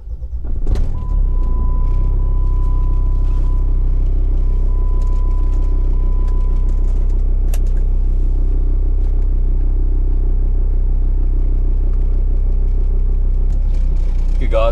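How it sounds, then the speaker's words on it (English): Jeep Grand Cherokee WJ with the 2.7 CRD diesel on a gentle test drive, a steady low engine and road rumble throughout, with a thin whine early on and a few clicks and knocks. "Let's go for a small test drive and you guys can see how good this Jeep actually drives."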